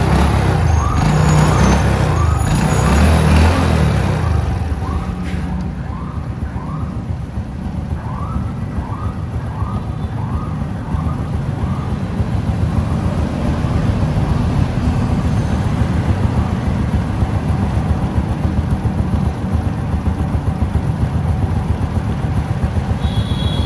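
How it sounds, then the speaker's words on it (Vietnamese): The engine of a 2003 Honda Wave Alpha motorbike idles close by with a dense, steady low rumble that continues at an even level throughout, with no talking. "Bây giờ anh em nghe tiếng máy trước nè."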